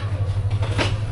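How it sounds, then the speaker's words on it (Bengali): Upaban Express passenger train pulling out of a station in Bangladesh at night, a loud steady low engine drone with rumbling wheel noise, brief and close, no voices. "12:11 আমাদের ট্রেন ছেড়ে দিল।"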